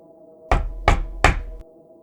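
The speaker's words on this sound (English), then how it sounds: "And then came knocking." Three firm knocks on a door, evenly spaced about a third of a second apart, loud and close against a quiet room, with a faint fourth tap trailing off at the end.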